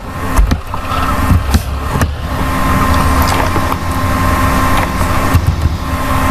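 A tractor drives in a farming simulator game, its engine droning steadily throughout with a few sharp mechanical clicks and knocks over the top, no talking.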